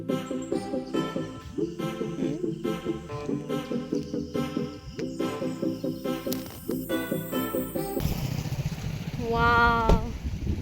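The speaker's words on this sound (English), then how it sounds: "Just listen to the crickets." Crickets chirp at night in rural Purulia, India, a rhythmic pulsing trill heard from a vehicle while its engine drones steadily underneath.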